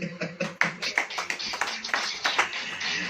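Congregation in a church clapping along in a steady rhythmic pattern of sharp, evenly spaced claps, fairly close and continuous throughout.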